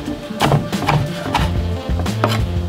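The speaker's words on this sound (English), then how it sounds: "We'll just chop it up and we'll see what we're gonna do with it here in a little bit." Knife chopping vegetables on a cutting board for spinach mushroom enchiladas, a series of irregular close thunks and taps over low background hum, with no talking.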